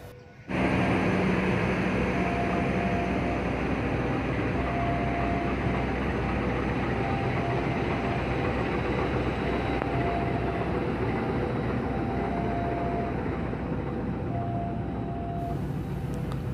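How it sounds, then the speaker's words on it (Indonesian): A passenger train pulls into Jogja station in Yogyakarta, a steady loud rumble of wheels and carriages with faint tonal squeals, sustained and close throughout. "kita melihat rangkaian dari kereta api masuk ke stasiun Jogja"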